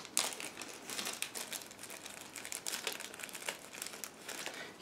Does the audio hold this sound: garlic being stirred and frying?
no